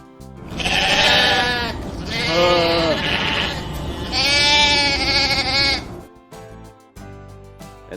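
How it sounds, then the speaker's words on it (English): A sheep bleats loudly and close, three drawn-out wavering calls in a row, followed by a short musical tail. "Sheep."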